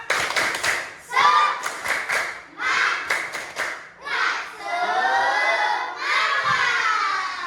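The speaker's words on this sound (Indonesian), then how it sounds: "Tepuk semangat" A classroom of students performs a rhythmic clapping chant as an icebreaker. Bursts of loud, synchronized claps alternate with children shouting and cheering, and excited group voices carry through to the end.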